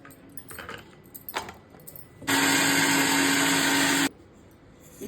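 A mixie grinder blends tomato chutney in a home kitchen, a loud steady motor whir that runs for about two seconds and then stops, following quieter handling clatter.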